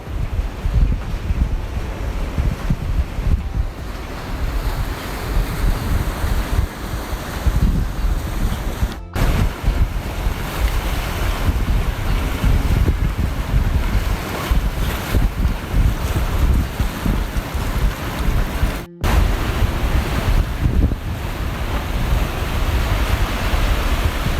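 Waves roll onto a beach with large rocks at Teluk Cempedak in Kuantan, Malaysia, on a day of fairly strong surf: a steady, dense wash of surf and wind noise without pause, loud and continuous, with no talking.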